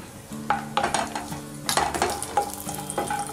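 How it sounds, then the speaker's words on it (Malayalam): Cashew nuts fry in hot ghee for a chicken biryani, a steady close sizzle broken by repeated sharp scrapes and clinks of a spoon stirring against the pan. "ഈ സമയത്തേക്ക് ഞാൻ ഇതിലോട്ട് കുറച്ച് ക്യാഷ്യൂനെറ്റ് ഒന്ന് ആഡ് ചെയ്ത് കൊടുക്കുക"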